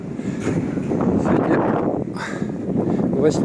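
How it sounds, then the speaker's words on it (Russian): Strong wind buffets outdoors on a city square in Yakutsk, a loud, continuous roaring rumble with gusty surges, heard under a person talking. "Сегодня ветер у нас такой вот"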